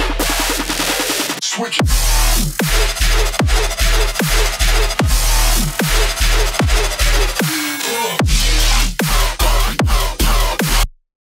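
A drop from an electronic music track in a free sample pack hits loud and dense, with punchy kicks and falling bass hits repeating in a steady pulse under thick synth layers. A brief vocal sample sounds before the track cuts off abruptly.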